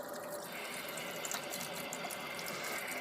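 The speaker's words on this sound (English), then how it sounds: "And I'll just use warm water, not really hot," Warm tap water runs steadily from a faucet into a sink while resin 3D-printed parts are washed, a constant faint hiss of flowing water with no talking.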